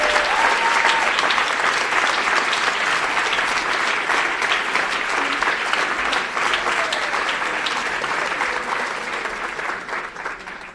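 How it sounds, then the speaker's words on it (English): Audience applause for an award recipient at a Harvard Kennedy School class day ceremony, a loud, dense crowd clapping that holds steady for about ten seconds before easing off slightly at the close. "let's just give him a round of applause"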